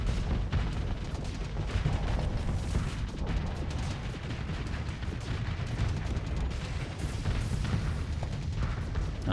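Torpedoes slam into a ship during space combat in the video game Starsector, a dense, continuous barrage of loud booms and rumbling blasts with no pauses throughout.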